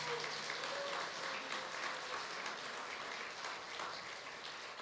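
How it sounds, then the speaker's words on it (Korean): Church audience at an evening gathering of pastors applauding to welcome a newspaper reporter, steady crowd clapping throughout, fairly distant with some faint voices mixed in. "여러분 박수로 좀 환영해 주십시오."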